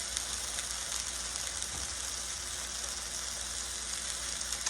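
Chicken frying in a hot cast iron skillet, a steady close hiss and crackle of sizzling that carries on evenly with no voices.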